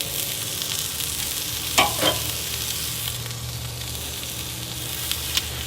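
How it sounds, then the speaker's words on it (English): Jerk chicken sizzles on a Char-Griller Akorn kamado grill, a steady close crackle with a couple of sharp louder pops as pieces are flipped, no voices over it. "And you hear it just sizzling"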